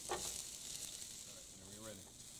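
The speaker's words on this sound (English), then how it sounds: "to stir fry for about 5 minutes until the carrots get fairly close to done" Carrots being stir-fried in a pan for a pasta stir fry, giving a steady, quiet sizzle with faint stirring scrapes and no talk.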